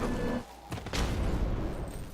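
Blasts from a ring of explosions in Dark Souls 2, a couple of deep booming bursts close together with a rumbling tail, no talk.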